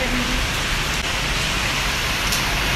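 Heavy rain driven by strong wind, a steady dense broadband roar with no breaks for its full length, close and loud.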